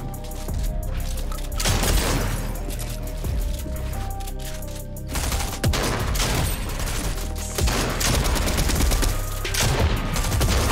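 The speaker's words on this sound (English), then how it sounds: "I got a grenade launcher I'm pretty good at using now" Grenade launcher fire in the Fortnite video game, with a dense run of repeated blasts and booms over roughly ten seconds of busy, loud battle sound.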